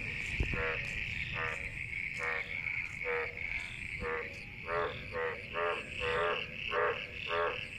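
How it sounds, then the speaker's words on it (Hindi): Frogs croak in repeated pulsing bursts after rain, a steady chorus of raspy calls with crickets chirping faintly in the background. "और साथ में आवाज़ें आ रही हैं जी मेंढकों की।"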